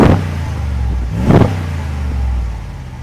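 A 2022 Jeep Wagoneer Carbide's 5.7-liter Hemi V8 idles loudly and close, then gives a couple of quick revs rising and falling over a steady low rumble.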